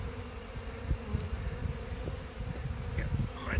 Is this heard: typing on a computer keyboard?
no